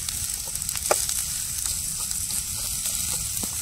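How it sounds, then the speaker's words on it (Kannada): Chicken liver with mint fries in oil in a pan, giving a steady, close sizzle with occasional sharper pops and faint stirring. "ಗೋಲ್ಡನ್ ಬ್ರೌನ್ ಬರೋವರೆಗೂ ಫ್ರೈ ಮಾಡ್ಕೊಳ್ಳಿ"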